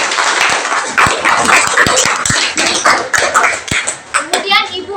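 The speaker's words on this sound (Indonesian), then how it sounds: "bagus, tepuk tangan dulu" Children clapping their hands together in a classroom, a brief burst of scattered claps mixed with young voices chattering and calling out nearby.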